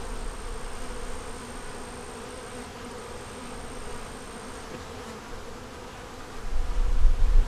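Honey bees buzz steadily throughout a hive inspection, a dense close drone of many wings with a faint high whine, rising into louder handling rumble near the end.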